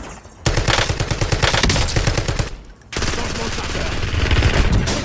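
Dense automatic gunfire in the shooter game Warzone Resurgence, sustained bursts with a brief pause, loud and close, over in-game sound.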